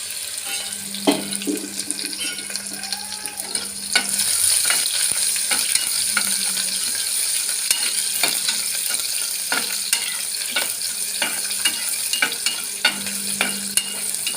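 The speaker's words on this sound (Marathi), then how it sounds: "म्हणून मी मिरच्या न टाकता कांदा टाकला पहिल्यांदा" Onions frying in oil in a home kitchen pan on medium heat, added before any chilies: a steady sizzle over the whole clip with repeated scraping stirs and spoon clinks, close and moderately loud, and no talking.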